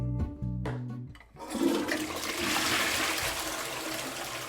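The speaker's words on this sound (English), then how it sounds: "The toilet is leaky." A leaky toilet in a home bathroom makes a steady, close rush of running water after a brief tonal sound at the start, continuing evenly to the end with no talking.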